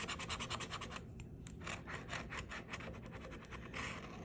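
Repeated rubbing scratches of a coin on a Gold Rush Limited lottery scratch-off ticket, short rasping strokes in quick rhythm, close and fairly quiet, with no talking.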